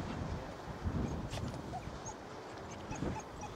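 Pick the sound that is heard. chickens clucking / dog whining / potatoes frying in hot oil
dog whining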